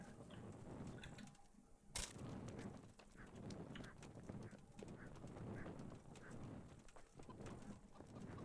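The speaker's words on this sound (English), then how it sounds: "Hey, horsey." Horse hooves clip-clop in the Kingdom Come: Deliverance video game, quiet and steady, mixed with faint bird calls and outdoor ambience. One brief sharp knock stands out early on.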